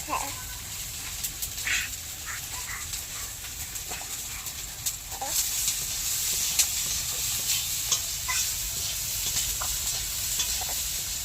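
Vegetables stirred in a frying pan in a village kitchen for a vegetarian dish, giving a faint steady sizzle with scattered scraping clinks of the spoon, fairly quiet and continuous.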